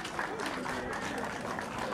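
A crowd at a municipal league football final gives a short burst of applause, steady and moderately loud, with voices talking over it.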